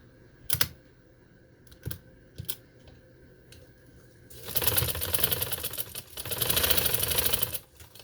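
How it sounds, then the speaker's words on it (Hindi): Sewing machine stitching a doubled layer of summer lawn fabric for a lace neck design, a few short clicks and taps first, then a loud steady run of close stitching lasting several seconds with a brief pause. "अब मैं यहाँ पकड़ के सिलाई दे लूँ"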